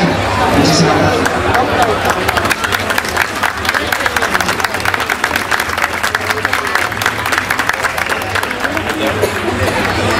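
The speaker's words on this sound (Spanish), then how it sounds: "Ese aplauso para el concejal" Loud crowd applause for a councillor at an outdoor romería festival, dense continuous clapping with crowd chatter and scattered cheers filling the whole stretch.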